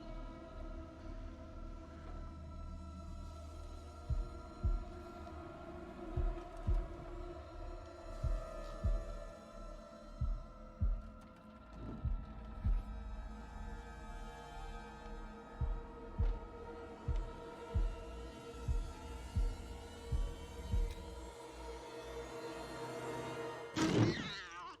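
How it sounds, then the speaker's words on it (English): Low, regular heartbeat thumps from the heartbeat minigame in Little Hope, repeating roughly every second over a dark droning ambient score, fairly prominent with no talk. "Hang on, I need to do a heartbeat."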